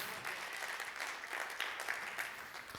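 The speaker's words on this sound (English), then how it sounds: "Somebody clap your hands like God's still big enough." A church congregation claps their hands together, a steady, fairly quiet patter of many hands with faint voices mixed in.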